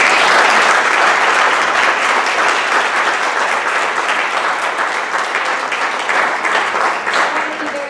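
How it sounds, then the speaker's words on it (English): Warm applause from the audience at a school board of education meeting honoring teachers, steady dense clapping filling the room for the whole stretch and easing slightly toward the end. "If you can join me in giving a collective round of applause to all of them."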